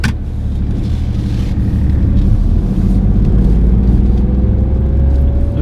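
A car pulling away from a junction, a loud steady low engine rumble and road noise from inside the vehicle with the pitch gradually rising as it gathers speed, no talking over it.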